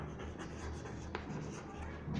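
Pen strokes scratch on paper during a handwritten maths lesson, a close, continuous scribbling with small repeated ticks and no talk.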